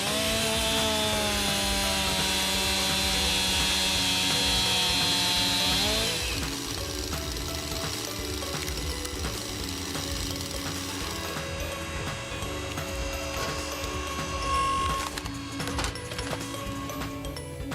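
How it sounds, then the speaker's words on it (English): A homemade chainsaw machine with a powerful motor cuts through a large old log, its engine whining at a high steady pitch before dropping into a rougher, lower grinding drone as the chain bites deep, loud and continuous. "A chainsaw with a formidable powerful motor, this machine moves gracefully through the heart of the ancient wooden block"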